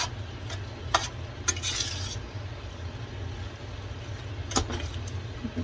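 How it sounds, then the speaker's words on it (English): Spaghetti sauce stirred in a pan for a quick, easy spaghetti dish, a low steady simmering hum with a few soft scraping clicks from the spoon, close and fairly quiet. "You can see as I'm stirring it."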